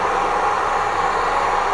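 A camping gas burner, lit to heat water during a blackout, gives a steady, loud, continuous hiss that holds evenly throughout, with no talking.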